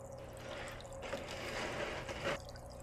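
Dirty wastewater from cleaning a pet enclosure pours out of a bucket, a steady close splashing rush that lasts the whole moment with a few swells.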